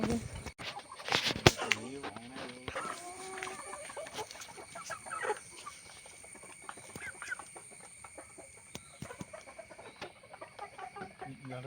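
Chickens cluck and squawk nearby, loud at first and then settling into scattered clucks and scratchy shuffling over a faint steady hum.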